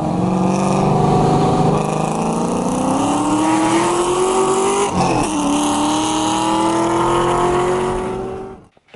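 Race cars, including an LS-swapped Nissan 240SX with nitrous, roar past on track at full throttle, engine pitch climbing steadily through gears with a brief shift break midway, loud and continuous.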